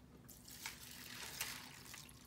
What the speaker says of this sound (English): we're going to add water to the fill line